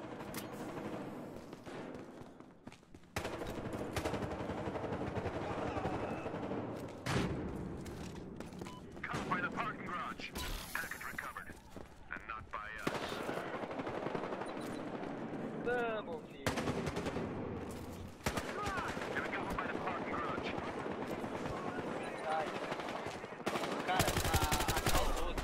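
In Battlefield Hardline, an AK-12 rifle fires in repeated automatic bursts at moderate loudness, with other gunfire scattered between them.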